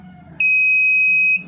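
A multimeter's continuity buzzer sounds a steady electronic tone for about a second, sharp and loud, then cuts off abruptly.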